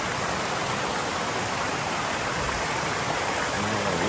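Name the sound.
Seven Sisters waterfall and river flowing, Grenada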